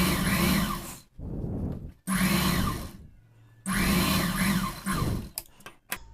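Sewing machine stitching the shoulder of a designer blouse, three steady whirring runs of about a second each separated by short pauses, close and fairly loud, with light handling clicks at the end.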